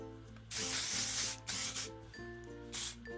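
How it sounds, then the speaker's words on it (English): Short bursts of hair spray hiss from a can aimed at lifted sections of hair, three spurts of varying length with brief pauses between, close and crisp over a faint low background hum. "spray it all in there, and then spray on the bottom"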